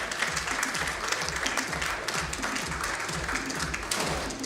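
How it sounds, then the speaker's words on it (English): Audience applause at a corporate customer event welcoming a co-founder and CEO onstage: a sustained, dense round of clapping from a large crowd, steady and fairly loud throughout with no talk over it. "let's welcome him with a huge round of applause, ladies and gentlemen"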